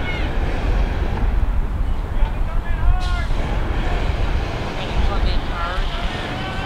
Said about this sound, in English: The wind's picking up too.